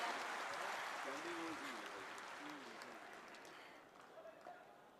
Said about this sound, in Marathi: आपण सगळेजण जोरात टाळ्या वाजवून पुन्हा एकदा त्यांच्या कारकिर्दीसाठी अभिवादन करूया.